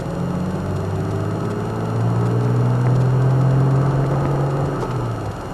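A Toyota Tacoma TRD Off-Road with a manual transmission drones from inside the cabin. Engine pitch climbs partway through, then sinks slowly as the revs hang, over a constant low road rumble.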